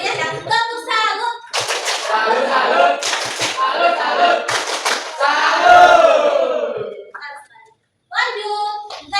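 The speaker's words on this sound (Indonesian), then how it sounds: "Coba kita kasih tepuk salut dulu untuk yang sudah menjawab." Classroom of children performing a rhythmic chanted 'tepuk salut' clapping routine, with sharp bursts of clapping alternating with loud group chanting and a teacher's voice, close and lively.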